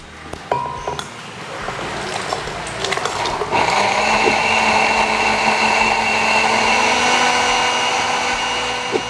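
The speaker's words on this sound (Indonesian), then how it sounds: "ini aku mau blender" A blender motor starts after a few clattering knocks, then whirs steadily and loudly, churning a thick cooked tomato sauce for butter chicken curry close by without voices.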